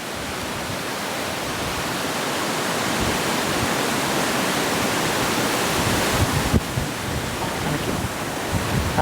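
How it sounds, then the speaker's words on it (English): Gusting wind buffets the microphone outdoors beside the water during a pole fishing match, a loud broad roar that swells and builds steadily with a few bumps near the end. "Yeah, the wind's like gusting round."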